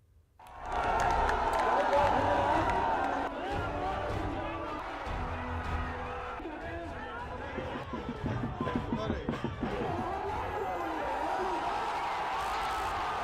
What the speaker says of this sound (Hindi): लालू के मंच के सामने भीड़ का उत्साह